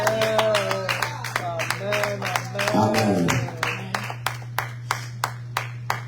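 A church congregation claps in praise for Jesus, starting as scattered claps under a voice and turning into sharp, evenly spaced single claps repeated near and loud toward the end.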